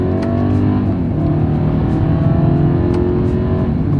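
A 2024 Mercedes-Benz GLE 350 in sport mode accelerates hard from first gear on a straightaway, its engine droning steadily and loudly from inside the cabin with road rumble underneath.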